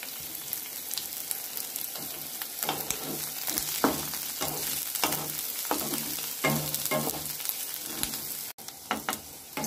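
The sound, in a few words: onions and garlic frying in a pan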